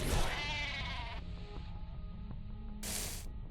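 A ram bleats in the StarCraft II game world, a wavering harmonic cry near the start over a steady low hum and scattered game effects, followed by a brief burst of noise.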